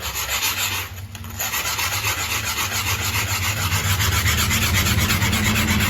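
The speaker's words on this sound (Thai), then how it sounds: "เรามาขัดตรงนี้ต่อ ตรงนี้ผมก็ขัด" A scrubbing stone rasps back and forth over yellow-stained bathroom floor tile in steady close strokes, with a brief pause near the one-second mark before the loud abrasive rubbing resumes without talk.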